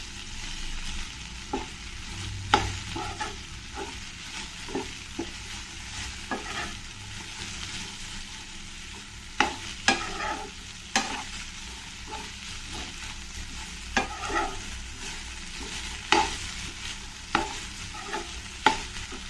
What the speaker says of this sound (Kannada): ಈ ಒಗ್ಗರಣೆಯಲ್ಲಿ ಒಂದೆರಡು ನಿಮಿಷ ಸ್ವಲ್ಪ ಚೆನ್ನಾಗಿ ಬಾಡಿಸ್ಕೊಳ್ಳೋಣ ಇದನ್ನು